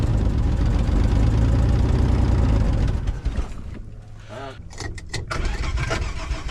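Holden HQ one-tonner engine running loud and steady at idle, then dipping and picking up again as someone works the throttle while the vehicle is put into reverse, with people talking over it.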